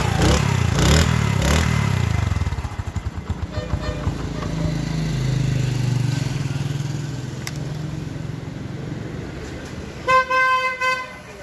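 A Honda CD 80 motorcycle engine idles loudly and steadily with a throaty low putter, a few sharp blips and clatters near the end, with no voices.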